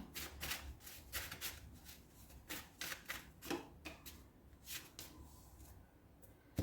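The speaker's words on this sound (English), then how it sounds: "I've literally been shuffling for ages" A deck of cards being shuffled over and over, rapid riffling bursts in an uneven rhythm, close and fairly soft, with no one speaking.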